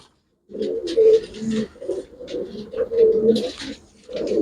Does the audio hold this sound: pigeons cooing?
yes